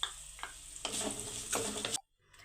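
Chopped onion and green chillies hit hot oil in a pan for semolina upma, giving a bright hissing sizzle with stirring scrapes that cuts off abruptly near the end, leaving faint background.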